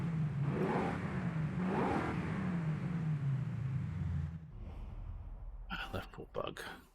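A V8 car engine in a racing game revs up and falls away in a couple of rising and sinking swells, fairly loud and close, then cuts off before a few brief clatters, with a voice talking over it.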